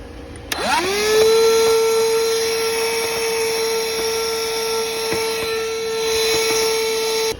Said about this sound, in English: we are going to drill 2 holes, one there and one there for tap cones